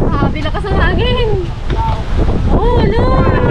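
Strong wind buffets the microphone with a constant rumbling roar while people talk and call out excitedly over it.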